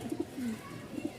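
Pigeons at a Bangladeshi pigeon display coo in a few soft, low rounded calls, close and fairly quiet, with a brief pause between bursts.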